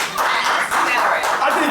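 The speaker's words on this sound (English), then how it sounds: "Put your hands together for Keishawna." Audience applause for a performer on a talk show stage, a steady wash of hand clapping that holds for the whole stretch, loud and close with a brief dip partway through.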